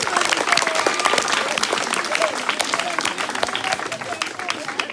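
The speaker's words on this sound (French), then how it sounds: "Et on applaudit vraiment bien fort" An audience at a hypnosis stage show applauds loudly and steadily with dense clapping throughout, while a voice talks over the applause.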